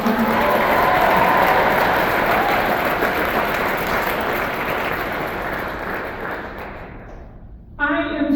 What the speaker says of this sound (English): So Annabella and Molly, let's give them a round of applause